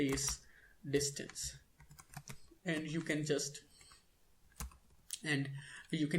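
Quiet clicks of a computer keyboard, including the tab key, tap in short bursts while a voice speaks over them in a Java programming tutorial.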